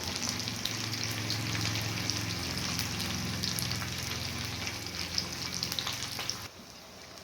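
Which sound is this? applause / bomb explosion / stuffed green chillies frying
stuffed green chillies frying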